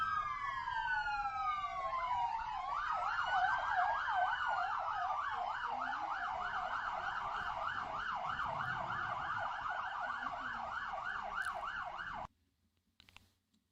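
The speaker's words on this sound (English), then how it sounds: "Dude, fuck those sirens." Emergency vehicle sirens outside sweep through a slow wail and then a fast repeating yelp with layered tones. They stay loud and steady for about twelve seconds, then cut off abruptly, leaving faint thumps and no talking.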